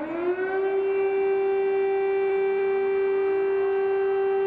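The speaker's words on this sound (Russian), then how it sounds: "Вой воздушных сирен слышали во всех частях украинской столицы." Air raid siren wailing across Kyiv, a sustained steady tone that rises at the start and then holds with strong harmonics, loud and continuous with no voices.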